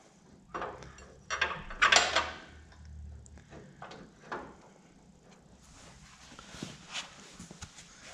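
A front blade part sliding onto a shaft of a John Deere X300 lawn tractor, heard as a few close metallic clunks and scrapes spaced over several seconds, with some quiet handling in between.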